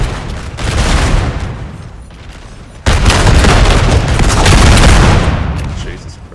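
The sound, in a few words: musket volleys and cannon fire in Napoleon: Total War video game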